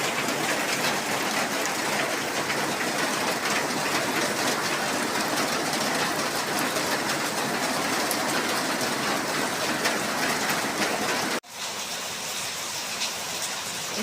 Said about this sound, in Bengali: বাহিরে অনেক বৃষ্টি নামছে বৃষ্টির রান্না বসে দিচ্ছি বৃষ্টি নামছে